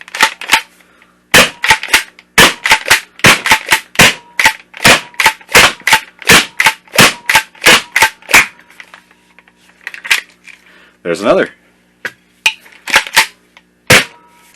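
A XYL KM9 Unicorn foam blaster fires Adventure Force Pro darts in a quick run of sharp, loud cracks, steady at first, then sparser with a mechanical whir between shots; a voice briefly speaks near the end.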